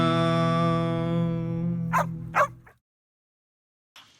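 A guard dog gives a drawn-out whining, whimpering cry, then two short sharp yips. Outdoors beside a hammock, close by and fairly loud, followed by quiet.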